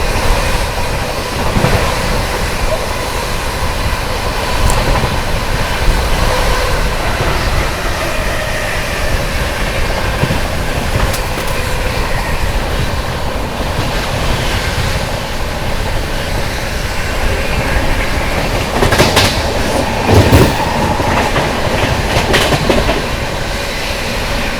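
Heard from aboard the Humsafar Express 22437 from Prayagraj to Anand Vihar as it runs through Somnath station without stopping, with a loud, steady rumble of carriages and rhythmic wheel clatter over rail joints and a few sharper clanks.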